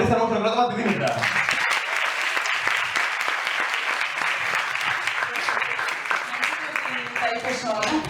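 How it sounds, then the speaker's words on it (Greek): Warm applause from a TEDx audience welcoming a speaker to the stage, a dense wash of clapping that fills the room for several seconds, with a voice talking briefly at the start and end. "Υποδεχτείτε με ένα πολύ θερμό χειροκρότημα τη Δήμητρα."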